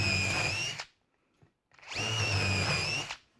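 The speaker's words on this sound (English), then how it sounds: "All right, drill those holes." Two loud bursts of a power drill boring into wood, separated by a brief pause with a faint click.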